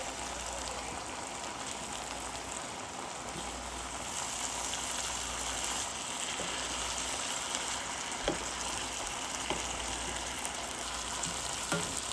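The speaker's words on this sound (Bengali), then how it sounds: "ধুয়ে ঝরানো পালং শাকটা যোগ করে দিব এবং ভালো করে নেড়ে কষিয়ে নিব" Spinach with dried fish stir-fried in a pan, a steady bright sizzle running throughout with occasional soft scrapes of stirring, moderately loud and alone with no talk.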